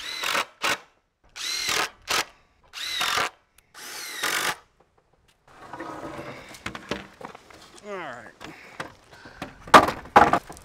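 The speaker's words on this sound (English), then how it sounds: "we'll go ahead and put some screws through the other side" A power drill drives screws into a wooden garden gate frame in four loud, close bursts of whirring motor, each winding up and stopping, followed by quieter handling and clattering of wood and tools.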